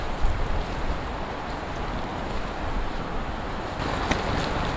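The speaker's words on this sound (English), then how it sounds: "That wind in there, it won't let off." Strong wind gusting at a campsite near an abandoned airfield, a steady loud broadband roar buffeting the microphone for the whole stretch, with no speech.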